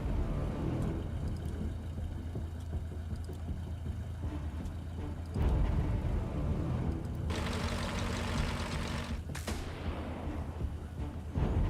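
Cannon fire in the video game Xenonauts 2 booms over dense, continuous battle noise, with sharp blasts cutting through the rumbling mix around the middle and near the end.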